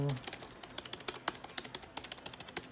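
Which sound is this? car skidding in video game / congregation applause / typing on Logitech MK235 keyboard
typing on Logitech MK235 keyboard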